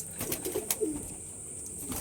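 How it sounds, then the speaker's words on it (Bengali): Pigeons cooing softly in a loft, a few low throaty coos and faint bird calls spread over two seconds against quiet background noise. "পায়রাগুলো দেখেছেন পরিতা পায়রা কিন্তু সুস্থ আছে"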